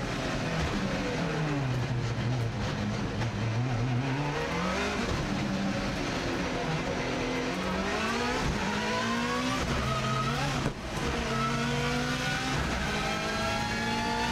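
A rally car on an Isle of Man TT lap accelerates hard for a flying start, its engine note climbing and dropping through gear changes in repeated rising sweeps, loud and close from inside the cockpit, no voices.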